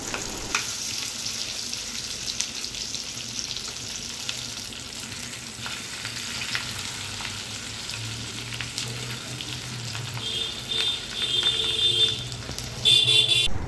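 Khoira fish fry in a pan with a steady, close, even sizzle that runs throughout, while faint high tonal beeps from somewhere outside creep in near the end.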